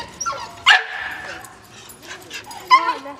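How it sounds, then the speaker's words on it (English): Several dogs bark, yip and whimper in a busy home, with sharp barks near the start and again toward the end, while a person talks over the commotion. "Doggies everywhere."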